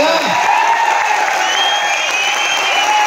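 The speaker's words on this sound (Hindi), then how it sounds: "ये कैसी लगी आपको, ये आपकी तालियां बताएंगे।" Audience at a Mumbai success-story talk applauding steadily, a dense even wash of clapping from a large crowd lasting the whole few seconds, with no speech over it.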